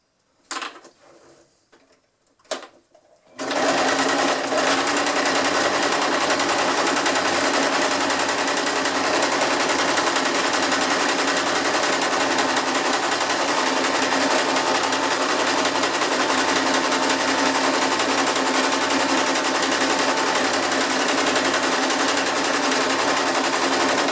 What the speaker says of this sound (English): So overlay it by about a 1/2 inch and just sew this one together too.